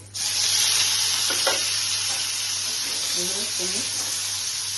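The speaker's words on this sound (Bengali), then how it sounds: "পনিরগুলোকে একটু ভেজে নিচ্ছি" Paneer cubes frying in hot oil for a paneer, soybean and cashew curry make a steady, moderate hiss and sizzle that starts abruptly and holds throughout. A low hum sits underneath, and a voice briefly murmurs near the end.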